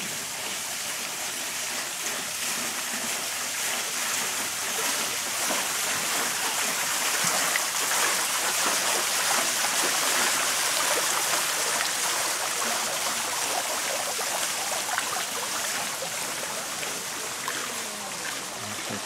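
Small waterfall in a park in Guilin, China, giving a steady broadband rush of falling water, constant and fairly close throughout with no speech.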